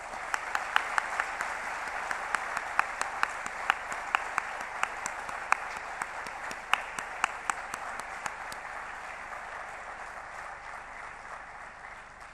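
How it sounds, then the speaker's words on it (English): Steady applause from an audience at a formal event, a dense wash of clapping with a few sharper individual claps standing out, holding evenly for several seconds and then thinning slightly toward the end. "give yourself a round of applause"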